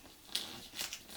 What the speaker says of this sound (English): peel off the sellotape that I stuck it down with